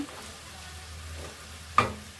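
Mixed vegetables tipped into an oiled kadai with onion, a low steady sizzle that rises into a short loud crackle as they hit the pan, then settles again.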